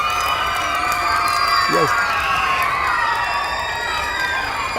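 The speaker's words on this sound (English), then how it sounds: "let's give our moon and our sun a big round of applause" A school assembly audience of children applauds and cheers, with shouts, whoops and steady clapping filling the room, while a single voice speaks a short word amid the noise.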